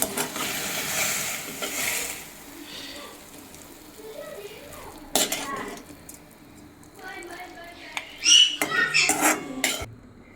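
Steel utensils clink and scrape against vessels while freshly cooked North Karnataka-style methi (fenugreek leaf) palya is served, in a few scattered bursts of clatter, the loudest near the end, over quiet room tone.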